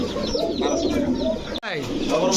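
Pigeons coo softly in a steady, layered murmur, close by, with a brief gap near the end before the cooing resumes, at a pigeon sale.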